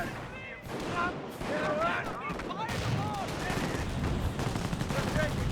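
Battle in the strategy game Company of Heroes: rapid gunfire bursts and grenade blasts crackle continuously, dense and loud, with voices talking over the combat.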